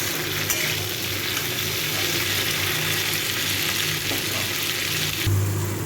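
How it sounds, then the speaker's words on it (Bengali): Kutri, a vegetarian dish seasoned with salt, fries steadily in a pan with a continuous close sizzle and faint stirring, broken by a brief low bump near the end. "এই কুতরিটাকে আমি এবারে 3-4 মিনিট ধরে একটু ভালো করে ভেজে নেব।"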